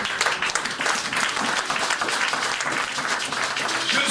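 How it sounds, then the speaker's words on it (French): A church congregation applauds and cheers in praise during a French-language worship service, a dense, sustained wash of clapping that holds steady at close range for the whole stretch with no pauses. "Est-ce qu'on peut acclamer le Seigneur?"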